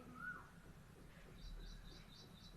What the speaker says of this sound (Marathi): कोकिळाचा आवाज ऐका कोकिळाचा आवाज येतोय का